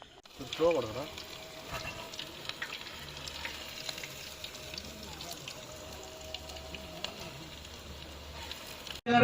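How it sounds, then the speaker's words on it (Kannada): Oil heating in a pan for garlic kebab at a campsite cooking setup in Karnataka, giving a soft, steady sizzle throughout with a few louder bumps and clatters at the start and end. "ಬೆಳ್ಳುಳ್ಳಿ ಕಬಾಬ್ ರೆಡಿ ಆಗ್ತಾ ಇದೆ ಎಣ್ಣೆ ಕಾಯ್ತಾ ಇದೆ"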